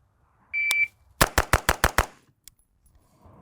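A shot timer's sharp electronic beep is followed after a short pause by six rapid, loud gunshots from an AR-15 rifle, M&P 15 Sport II or Aero Precision build, evenly spaced, then one fainter distant crack.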